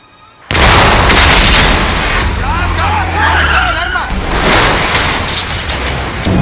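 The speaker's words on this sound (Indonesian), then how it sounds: "Setelah meledakkan mobil pengawal yang menjadi target mereka" An escort car explodes in a film with a sudden loud boom after a brief quiet moment. A sustained, roaring rumble follows with screeching, skidding tones over it.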